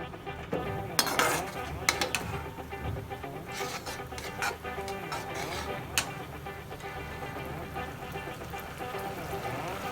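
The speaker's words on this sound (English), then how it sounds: "add the cornstarch mixture in it, so that the gravy becomes thick, and give it a nice stir" A spoon stirs chilli potato gravy thickened with cornstarch in a pan, scraping and clinking against the metal in irregular taps and clatters, fairly quiet and close.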